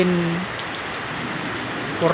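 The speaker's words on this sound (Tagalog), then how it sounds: "Grabe itong ulan hanggang ngayon." Dense, steady rain pours down continuously, a broad wash of hiss with brief voices at the start and end.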